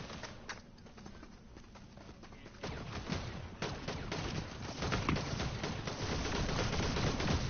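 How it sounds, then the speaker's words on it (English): Rapid gunfire in an online shooter game crackles in dense, uneven volleys that grow busier and louder partway through, continuing steadily to the end with no talking over it. "I'm shooting at players and nothing is happening."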